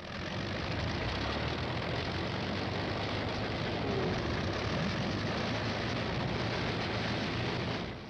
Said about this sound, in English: Out on the line, General Moore's P-51s are warming up for the longest fighter flight on record.